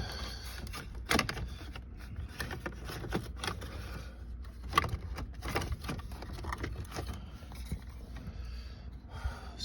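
A temperature controller frame being worked and wiggled out of the dashboard of a 1977 Cadillac Seville, with close scraping, creaking plastic and clicks over a steady background hum.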